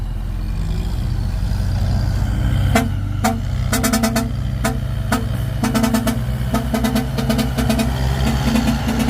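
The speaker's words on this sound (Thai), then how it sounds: "กลับมารอบนี้มีรถไถมาด้วย" A Kubota M108S tractor's diesel engine runs steadily and loud up close, a low continuous rumble under a series of sharp broadband clicks or knocks, with no talking.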